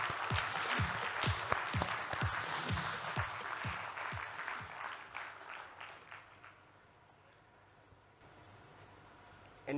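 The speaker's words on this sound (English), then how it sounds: "Can we have, please, big round of applause for them?" Audience applause at an opening session of a conference, a dense burst of clapping that carries strongly for several seconds, thins out and fades to near quiet, with a brief sharp sound at the very end.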